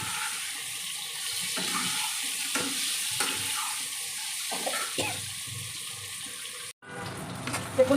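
Potatoes frying in oil in a pan for a fish curry, a steady soft sizzle with occasional stirring scrapes, fairly faint and alone, cutting off near the end.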